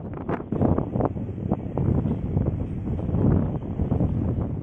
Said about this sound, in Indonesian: di atas ini anginnya kenceng banget